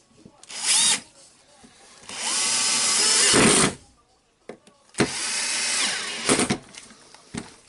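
A power screwdriver checks the screws on an old 1998 Makita HR2410 rotary hammer, with several loud whirring bursts of differing length separated by pauses and small handling clicks.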